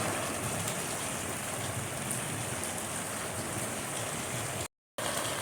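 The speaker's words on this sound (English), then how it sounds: "That water you see right there coming down is a culvert that takes water from my cul-de-sac at the end of the cul-de-sac" Storm runoff from a tropical storm rushing through a street culvert at the end of a cul-de-sac, a steady, dense roar of churning water close by, unbroken apart from a momentary dropout.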